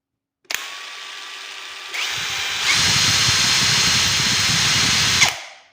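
A Nagawa BIS12U cordless brushless impact driver, running with variable speed, spins up with a high motor whine that steps up in speed twice into a louder, rougher buzz. It then winds down, close and alone.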